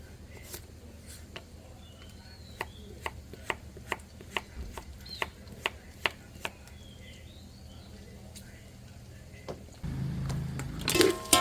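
Knife chopping vegetables for Ilokano igado on a board, a quiet steady series of about twenty sharp taps roughly every third of a second, then a louder sizzling clatter at the end.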